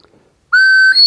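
A homemade whistle with a hole in it gives one loud, steady, shrill tone lasting about half a second, starting abruptly after a brief quiet lead-in, with a small dip before the tone resumes.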